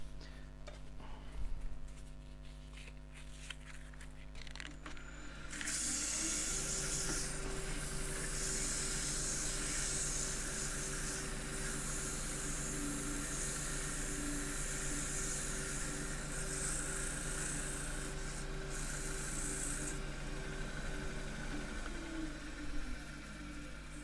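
Sandpaper at 320 or 240 grit pressed against a small maple bowl spinning on a wood lathe gives a steady, loud rushing hiss over the motor hum for most of the stretch, then eases off near the end.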